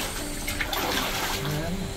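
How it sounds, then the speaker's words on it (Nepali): Water trickles and drips inside a cave at Rukumkot in East Rukum, a soft, uneven liquid patter heard up close with faint room echo. "पानी रहेछ यहाँ है"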